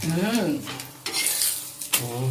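Paratha frying in a little oil in a pan, a loud close sizzle with scraping and stirring against the pan, and a voice talking over it at the start.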